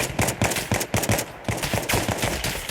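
Rapid automatic gunfire in the military simulation game Bellum, repeated bursts of sharp shots in quick rhythm, fairly close and loud, with no talk over it.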